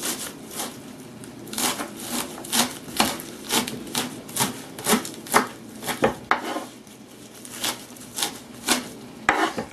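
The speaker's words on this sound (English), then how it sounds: "And what we want to do is chop this up." Salmon or other ingredients chopped with a knife on a cutting board, a fast, rhythmic run of close, crisp knocks and scraping strokes that pauses briefly midway and then resumes, with no talking.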